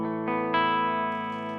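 Electric guitar played through a Majestic Overdrive pedal with the gain turned fully down, giving a clean, neutral, slightly flat tone: a few sustained chords, each attack ringing out with long decay and no talking over it.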